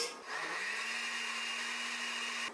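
A kitchen blender whirs steadily, blending agar for a vegan cheese, starting up after a brief moment and holding a constant close, fairly loud motor drone until cutting off at the end.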